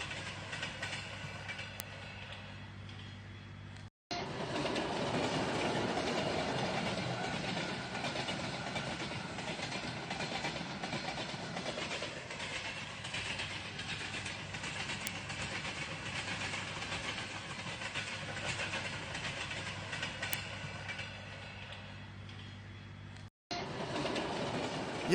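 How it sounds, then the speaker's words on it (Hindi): A train rolls along a railway, heading south, as a steady loud rumble of wheels and carriages that fills the whole stretch with continuous clattering noise and no talk over it. "ये ट्रेन जो जा रही है साउथ में जा रही है।"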